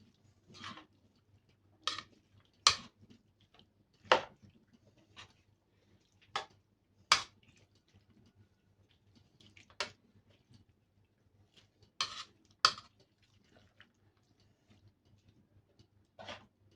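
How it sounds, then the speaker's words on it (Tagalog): A spoon stirs achara, a pickled papaya appetizer mixture, in a bowl. Sharp, irregular clicks and taps sound at intervals of about a second against a quiet background, some louder and crisper than others. "Ayan, haluin natin."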